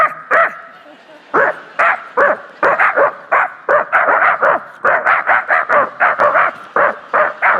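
During a comedy act on a talent show stage, a performer's voice imitates a pack of dogs, delivering a loud, close run of rapid barks and yips in quick bursts with brief pauses between them.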